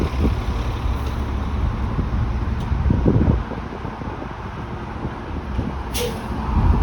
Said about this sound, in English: Bus number 50, which is a 2007 Orion 7 OG diesel.